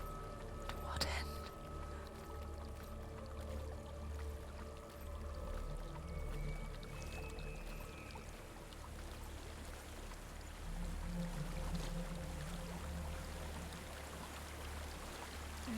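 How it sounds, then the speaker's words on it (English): A waterfall in the video game Hellblade: Senua's Sacrifice gives a faint, steady rushing wash of water throughout, with whispering voices speaking over it. "There's a waterfall."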